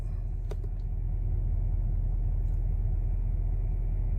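A 2025 Chevrolet Silverado 2500 HD LTZ truck idles steadily with a low, even engine rumble, close and constant, with a faint click near the start.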